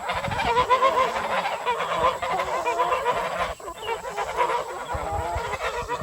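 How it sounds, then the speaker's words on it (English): Geese honk in a noisy, overlapping chorus close by, the clamor continuing steadily without pause. "Oh, them geese."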